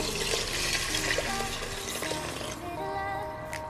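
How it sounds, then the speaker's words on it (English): Water poured onto rice in a rice cooker, a continuous close splashing and trickling with light clinks against the pot, easing off toward the end. "So now I'm gonna put the water in."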